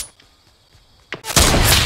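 A light machine gun in Fortnite opens up after a short quiet lull with a single sharp report, then a loud, sustained burst of rapid fire filling the end of the moment.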